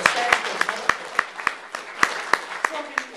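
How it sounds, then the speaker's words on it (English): Audience applause, heard as a run of evenly spaced, fairly loud claps roughly every third of a second, like one or a few people clapping in steady rhythm, with a voice murmuring underneath. "Let's clap for that."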